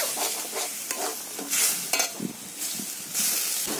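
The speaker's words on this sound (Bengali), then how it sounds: "সেই ডাল বাটাটা দিয়ে আরও 2 থেকে 3 মিনিট অল্প অল্প জল দিয়ে মশলাটাকে খুব ভালো করে কষে নেব" Spice masala cooking down with soaked lentil paste in a pan, a steady sizzle broken by repeated scraping stirs and occasional spoon clinks, close and fairly loud with no talk.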